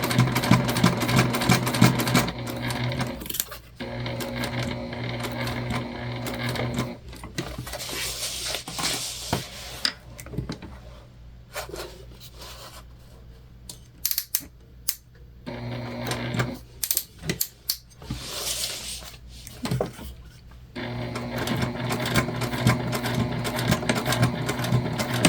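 Domestic sewing machine stitching a fully lined gift bag, running in long steady bursts of rapid mechanical whirring with short pauses between seams; close and loud, with no talking.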